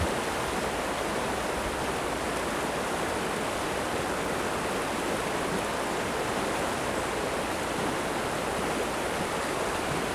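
The Pindar River, fed by the Pindar Glacier, rushes with a constant, dense roar of flowing water that stays steady and close throughout, with no voices.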